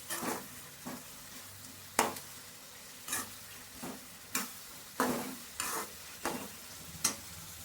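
Spoon stirring a pan mixture after salt and coriander are added, with about ten sharp scraping strokes in a steady rhythm over a faint sizzle, close and moderately loud, no voices.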